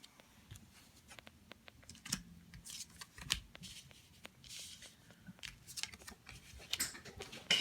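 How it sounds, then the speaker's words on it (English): Tarot cards shuffled by hand in a quiet room, producing soft papery riffles and slides in short irregular bursts, close and faint, with no voice. "Let's get the tarot cards out."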